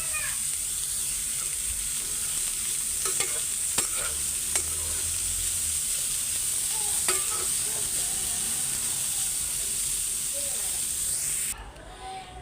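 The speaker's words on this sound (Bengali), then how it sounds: "এখন ভাইজা ফেলাইতেছি শাকগুলি" Boiled, drained leafy greens fry in a pan with a continuous, close sizzle. Occasional scraping stir clicks break through the sizzle, and the sound drops off sharply near the end.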